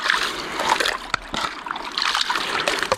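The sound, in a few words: water poured by hand into gold pan with gravel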